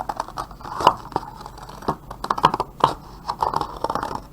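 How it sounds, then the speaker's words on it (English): Scissors snipping around a cardboard salmon shape for a collagraph print, giving a run of close, crisp crinkling cuts and scrapes in short bursts with small pauses between them. "What we're going to do is we're going to cut this salmon out using our scissors."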